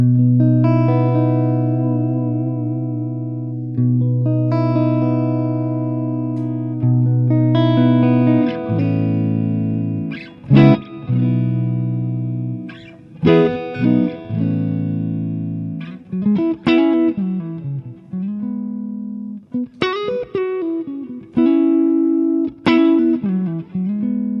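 Electric guitar plays sustained chords and single notes through a Line 6 HX Stomp amp modeler, with a warm, dark, clean tone and reverb tails, pausing between phrases.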